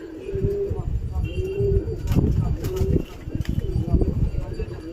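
Pigeons coo in repeated low, rolling calls as they are brought down from flight, with a person speaking nearby and some rustling and tapping.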